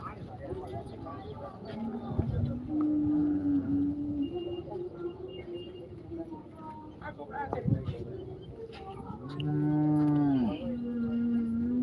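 Cattle moo loudly at the Chinthamani cattle market, long drawn-out calls rising over a busy crowd murmur, one close bellow standing out near the end.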